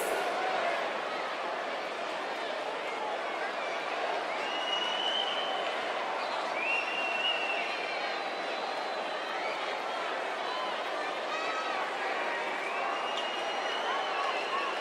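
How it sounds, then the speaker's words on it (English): A wrestling arena crowd roars in a steady, dense wash of cheering and noise, loud and continuous throughout, with whistles and shouts rising out of it. "Sounds like this crowd is ready for this fatal four-way match to get underway."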